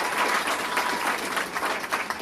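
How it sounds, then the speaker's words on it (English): A recital audience gives an evening performance a round of applause, heard as a steady, even crackle of many clapping hands in a room. "Big round of applause for yourself."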